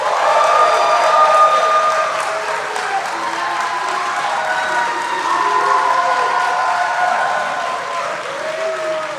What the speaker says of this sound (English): please give a big round of applause for my co-host